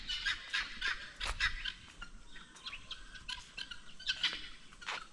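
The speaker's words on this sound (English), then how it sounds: "I don't know why these birds are making such a loud noise." Guinea fowls outdoors near a home compound make loud, harsh, rapid chattering calls in dense overlapping bursts, with no voices.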